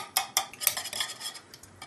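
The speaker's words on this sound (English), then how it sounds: "I'm going to start trying to whisk in some of this brown sugar here." A whisk stirs brown sugar into five egg yolks in a bowl, giving a few sharp clinks and scraping strokes against the bowl in an uneven rhythm, close up and with no talking.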